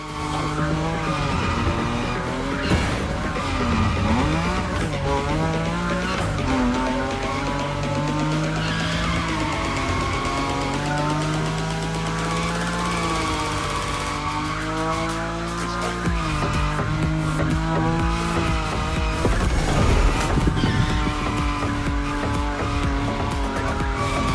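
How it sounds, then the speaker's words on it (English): A Nissan Nismo slides at high speed in The Crew Motorfest, with sustained, loud tire squeal over a constant engine roar that persists through the whole drift, with pitch wavering as the slide continues. "Your Nismo is powerful enough to slide along on its own when you're at high speed"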